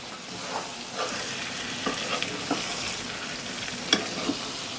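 Fried chicken is stir-fried in a pan with spices for chicken chap, a constant sizzle under repeated spatula scrapes and taps, close and with no talk.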